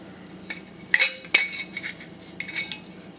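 Two-part metal lid of a glass canning jar being handled, giving a few light metallic clinks and taps close by, with quiet handling rustle between them.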